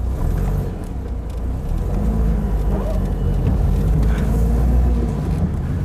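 A 1982 Ford Escort 1.3L Mk3 pulls away from a standstill, its low engine rumble steady and close with a slight rise in intensity as it gets moving; no talking is heard.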